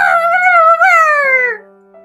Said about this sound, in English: I bark as loud as I can.